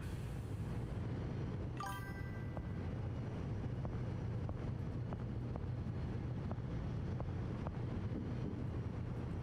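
A Cat ship engine runs in Seafarer: The Ship Sim with a steady low rumbling drone, joined by a brief tonal whine and faint regular ticks over the constant noise.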